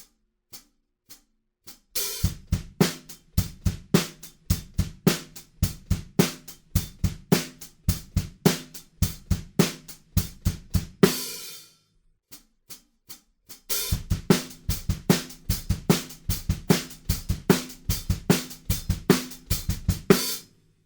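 A fast, driving punk drum beat, with sharp snare and kick hits, played in two bursts separated by a short gap, loud and up close.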